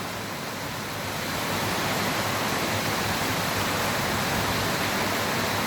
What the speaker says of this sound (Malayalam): ഇവിടെ നല്ല മഴയാണ്